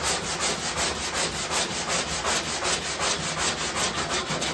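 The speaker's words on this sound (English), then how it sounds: "I knocked all the rough off with the 80 grit." Hand sanding with 80 grit sandpaper on filler along curved bodywork of a 1968 Pontiac Firebird under restoration, a loud, continuous rasp pulsing in quick regular back-and-forth strokes up close, with no voices.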